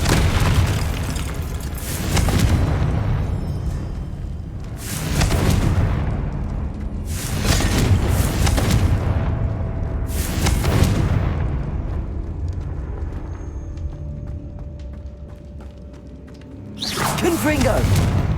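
Confringo spell explosions in Hogwarts Legacy, a series of five loud booming bursts at irregular intervals over a constant battle rumble, with a voice speaking in between.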